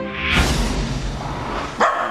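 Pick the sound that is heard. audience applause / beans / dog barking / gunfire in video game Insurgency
dog barking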